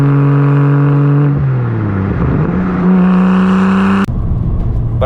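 A single-turbo BMW N54 with a 3-inch resonated single-exit exhaust drones loudly and steadily, the low tone shifting in pitch as revs change before cutting off abruptly near the end.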